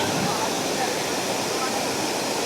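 Water from the full Powai lake in Mumbai overflowing the dam and pouring down as a waterfall, a loud, close, continuous broadband rush with no change throughout.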